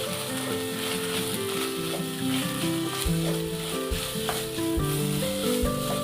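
Onions frying in oil in a pan for a cauliflower gravy, a steady close sizzle with faint stirring clinks, continuous and fairly even throughout, no voices.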